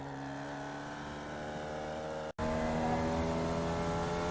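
A Formula Vee race car engine in the iRacing sim drones steadily at high revs, with a brief cut near the middle as the throttle lifts before it roars back on, loud and constant.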